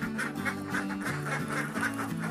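Laying ducks on a duck farm quack in a dense, continuous chorus, rapid overlapping calls from many birds close by, steady and fairly loud with no talk over them.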